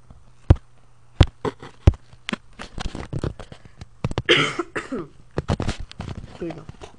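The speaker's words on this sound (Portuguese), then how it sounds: "Quando você tá rouco, você tem que ficar tossindo." A hoarse man coughs in several sharp bursts near the mic, with throat clearing and a brief stretch of talk in between.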